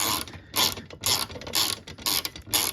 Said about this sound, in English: we'll just tighten them up by using my ratchet, 10 millimeters